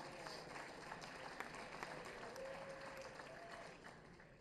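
An audience claps through a formal address, a steady wash of applause that fills the hall at moderate distance, with faint voices mixed in.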